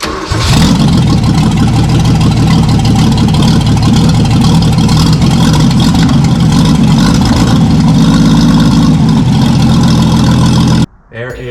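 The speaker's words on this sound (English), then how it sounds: "We should be ready to go and turn the key here, see if she will fire up." A 1973 Toyota Land Cruiser FJ55 cranks and fires up, then settles into a loud, close, rough running rumble that holds steady before cutting off at the end.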